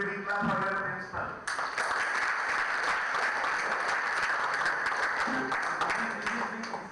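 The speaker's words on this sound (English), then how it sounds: "So you must give a big clap for your principal." A conference audience applauds the principal, a full continuous burst of many clapping hands following a brief stretch of speech at the start.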